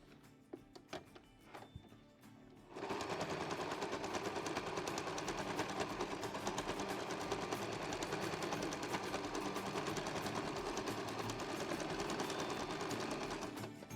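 A sewing machine stitches a zigzag on a fabric art quilt made from scraps: a few scattered clicks and knocks first, then a fast, steady, loud mechanical whirring run of stitches that continues to the end.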